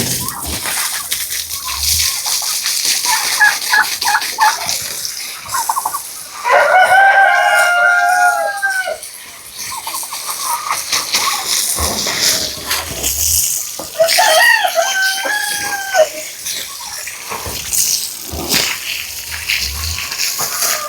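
A rooster crows twice, loud and near, amid steady clucking from chickens at their coop, with splashing water from the coop being washed running throughout.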